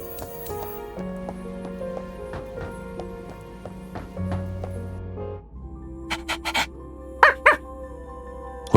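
In the game Honkai Impact, a puppy gives a few short, sharp yips near the end, rising above a sustained musical soundtrack that plays alone before them.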